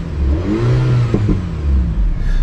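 An Alpine A110R sports car engine switched into racing mode, revving up and settling with a rough, burbling exhaust note close by, a couple of sharp pops in the middle, no talking.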